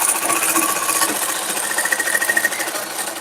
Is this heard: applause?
no